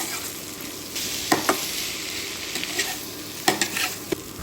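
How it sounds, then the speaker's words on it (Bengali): Sliced bay leaves are stirred and fried in spices in a pan for a raw banana kebab: a continuous oily sizzle broken by several sharp spatula clacks and scrapes, with no talking. "নেড়ে চেড়ে এখন এই সসপাতাগুলো আমাদের টেলে নিতে হবে।"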